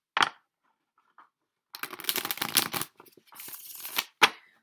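Tarot cards shuffled in a few riffling bursts, a short flick, then a longer ruffling run and a final sharp snap, close and crisp with no voices.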